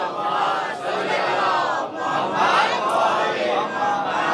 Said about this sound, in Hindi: सलवात पढ़िए मोहम्मद वाले मोहम्मद